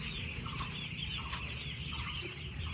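A crowd of four-day-old chicks in a village poultry shed cheep and cluck without pause, a busy high-pitched chatter close by, heard with no talk over it.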